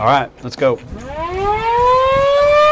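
An outdoor warning siren system, activated from an emergency operations center, rises into a loud, steady wail that builds and holds after brief talk at the start.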